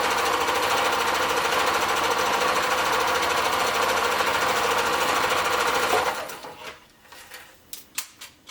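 A sewing machine runs steadily for about six seconds stitching a double seam on a cloth COVID-19 mask, a loud continuous mechanical whir, then stops, leaving a few scattered clicks and handling taps.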